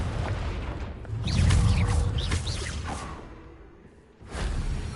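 The Confringo fire spell cast in Hogwarts Legacy on PlayStation: a rushing whoosh swelling into a heavy, booming blast that fades away, then a second surge of rumbling effect sound.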